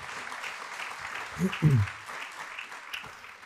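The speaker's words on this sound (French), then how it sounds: "Vous pouvez applaudir, hein," Faint, distant audience applause at a talk on technical solutions, a soft, steady patter of clapping running beneath brief low vocal sounds in the room.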